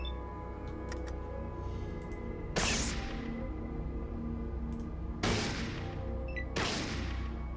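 Gunfire from the game Fallout cracks out as three sharp, sudden shots spread across a few seconds. Each shot stands out over a low, steady background hum, and no one speaks.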